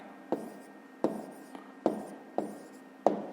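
A pen writes on paper nearby in short, distinct strokes, about six crisp scratches at roughly half-second intervals against quiet background. No one speaks.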